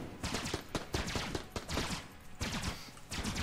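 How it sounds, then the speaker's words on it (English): Laser rifle firing in Enter the Gungeon, a run of rapid zapping shots in uneven bursts, loud and close with only slight gaps between volleys. "let's actually start using the laser rifle then"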